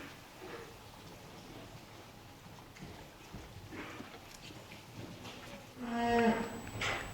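Cattle on a farm near silage, with a loud low moo rising near the end over quiet barnyard rustling and shuffling hoof sounds.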